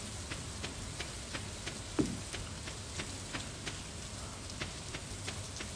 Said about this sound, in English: A warm rain is a pleasant way to get clean.